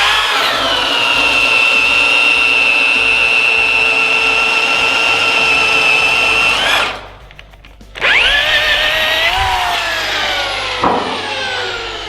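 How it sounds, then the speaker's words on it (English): A power drill boring through a wooden 4x4 board whines loudly and steadily close by, pauses briefly, then spins back up and winds down, with no talk over it. "that's gonna keep the backside of this 4x4 from splintering out when the drill bit goes to the other side"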